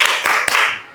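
A brief burst of group clapping in a classroom of an Indonesian Islamic education teacher-training session, a few quick overlapping claps that quickly taper off.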